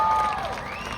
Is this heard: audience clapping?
yes